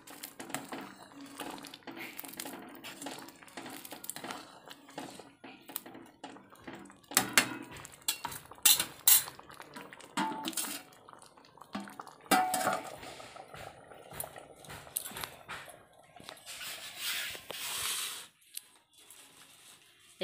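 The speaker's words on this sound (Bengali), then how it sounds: "চাটুটা দিয়ে একটু থেতো করে দেবে" Boiled bottle gourd and lentils get mashed with a spatula, irregular clinks, taps and scrapes of metal against a pot, faint and close, with quiet speech in places.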